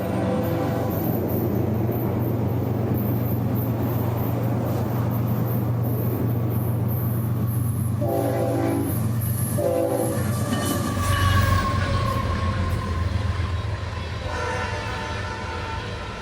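A BNSF northbound grain train led by locomotive 6517 rolls past on the S Line near Dade City, a heavy continuous rumble with repeated loud horn blasts partway through.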